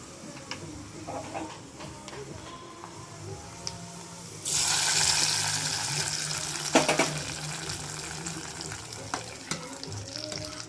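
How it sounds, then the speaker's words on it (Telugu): Tempering spices for dal crackle and sizzle loudly in hot oil, a sudden burst of frying that continues steadily with sharp pops over background kitchen noise. "పప్పు అయితే ఇక్కడ పోపు అయితే పెట్టేస్తున్నాను"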